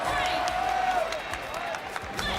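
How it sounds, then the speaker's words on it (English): Crowd of fans at an Evo fighting game tournament cheering and clapping during a 2XKO top 8 match, a broad roar of the audience under a caster's rising voice. "We can obviously hear a lot of Globo fans in the crowd."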